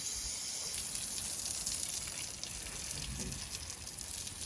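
A hose sprays water steadily in a continuous hissing wash as horses get showered, moderately close with no talking.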